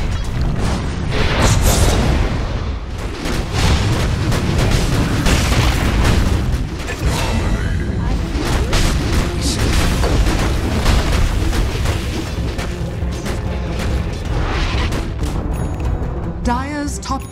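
An enemy tower collapsing in a Dota 2 match: a heavy boom rolls out over loud, continuous battle noise of blasts and pops, with voices talking faintly beneath the din.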